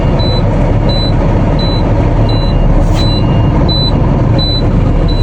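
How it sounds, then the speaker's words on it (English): A truck engine idles steadily while building air brake pressure, a loud constant rumble with a regular high beeping repeating over it throughout, and no one speaking. "What I'm doing now, I'm building air pressure between 120 to 140."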